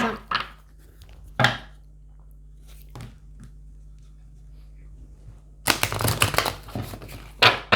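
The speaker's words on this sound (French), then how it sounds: "Donc, je remélange mon tas de cartes." Tarot cards shuffled by hand as a pile is remixed: a few brief riffling bursts early, a quiet stretch, then a longer dense flurry of close, crisp card flicks near the end.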